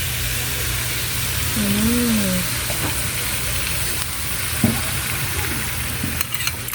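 An egg frying in a pan of sautéed bitter gourd (ampalaya), with a continuous close sizzle and a few soft utensil taps, with a short hum or voice partway through.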